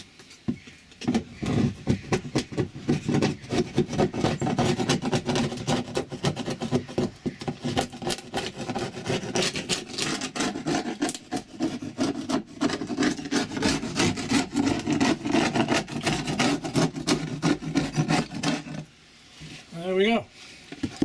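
Rhythmic scraping and rasping of a wood chisel working wooden fencing on an outdoor corner, with repeated strokes going on for about twenty seconds, close and fairly loud, and a voice heard near the end.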